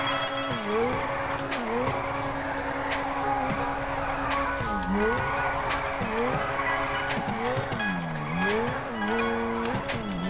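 Car drifting in GTA 5 FiveM, engine revving up and down in repeated swoops with continuous tire squeal, loud and sustained, with faint talk mixed in.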